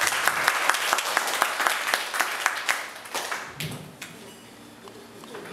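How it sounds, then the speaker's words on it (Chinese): Audience applause welcomes Professor Tsai Hung-cheng to a philosophy reading-group lecture on the world system and China's rise, a dense clapping patter with sharp claps that thins out toward the end. "那我们现在就以最热烈的掌声欢迎蔡老师"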